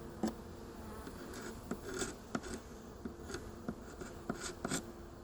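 Honeybees hum faintly in an open hive during an inspection as a frame is set back in place, with light scattered clicks and taps of wood over the soft buzzing.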